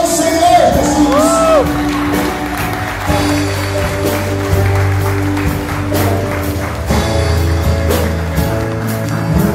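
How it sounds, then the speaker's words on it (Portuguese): A Portuguese-speaking church congregation applauds and cheers for Jesus at a pastoral consecration service, with loud sustained clapping, whoops and shouts, and a voice and music running over the noise. "Aplauda ao Senhor Jesus"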